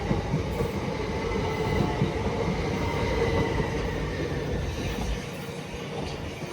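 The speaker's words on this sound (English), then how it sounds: "As another London Overground 378 heads off bound for Clapham Junction." A London Overground Class 378 electric train pulls away from Clapham Junction, its steady loud rumble and rolling wheel noise close by and continuous, easing slightly toward the end.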